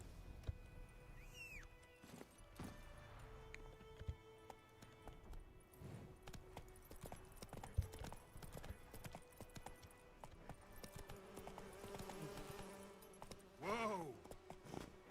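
Hooves of the horse Roach clip-clop in The Witcher III, soft repeated footfalls under game ambience and music, with a brief horse-like call near the end; no speech.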